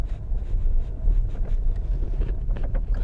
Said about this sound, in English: as you can hear, not a lot of engine noise gets into the cabin